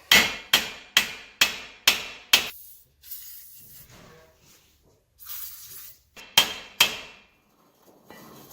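A hammer taps repeatedly on a loosened wheel bearing on a 2013 Nissan Armada, six quick sharp metallic knocks in steady rhythm, then rustling and scraping, then two more close blows.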